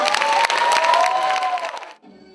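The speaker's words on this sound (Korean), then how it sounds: "박수 많이 쳐주세요." After young students in hanbok perform a flower basket dance at a Lunar New Year school event, the crowd claps and cheers in a loud burst of roughly two seconds that drops off abruptly.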